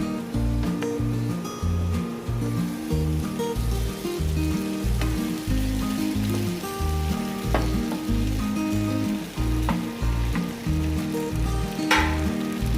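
Sabudana mixed with peanuts is stirred into potatoes frying in a pan, giving a loud steady sizzle over a regular, pulsing low thrum that runs throughout.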